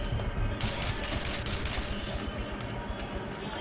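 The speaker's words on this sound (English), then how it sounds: "Shoot the zombies now." Rapid gunfire in Breach & Clear: Deadline Rebirth as zombies are shot: a dense burst of shots from about half a second to two seconds, then quieter scattered pops over a steady rumbling game background.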